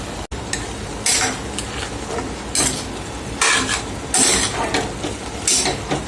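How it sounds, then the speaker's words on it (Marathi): A spoon stirs and mixes ingredients with a little salt in a pan, making repeated scraping and clinking strokes in irregular bursts, close and fairly loud, with no talking. "आता हे सर्व मी मिक्स करते."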